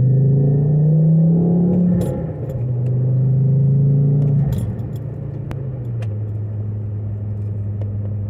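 A Volvo C30 heard from inside while driving, with a steady low engine drone that drops slightly as it shifts and some faint clicks and rattles in the cabin.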